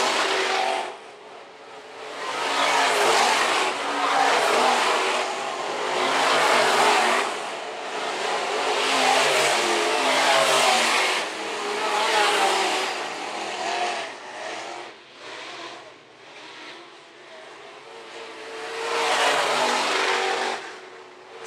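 Modified race cars circling a dirt oval track, engines roaring and revving in repeated swells as the pack passes, loud and continuous from start to finish.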